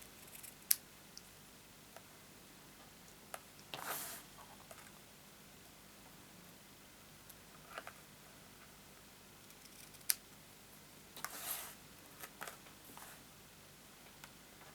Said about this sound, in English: And I'm just going to cut the ends off.